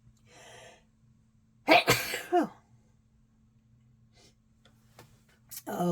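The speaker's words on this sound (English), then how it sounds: "I'm going to sneeze, guys." A single loud, sharp human sneeze bursts out mid-way in a quiet indoor room, followed by a softer breathy aftershock, with faint background ticks and a short voiced sound at the end.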